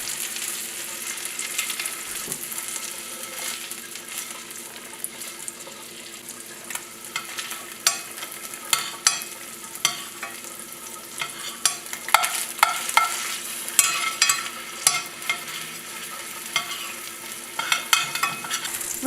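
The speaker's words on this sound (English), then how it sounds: "Saute the salmon fillet with butter in a pan on medium temperature." A salmon fillet sautéing in butter in a pan over medium heat, giving a soft continuous sizzle that grows busier with frequent scraping and tapping of a utensil in the later part.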